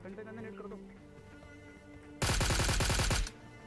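A burst of rapid automatic gunfire erupts loudly in the PUBG Mobile video game for about a second, following a stretch of quieter game sounds and a voice talking.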